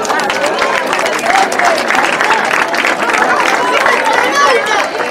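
Audience applause at a year-end awards party, steady clapping from a crowd mixed with chatter and murmuring voices, continuous across the whole stretch at moderate loudness.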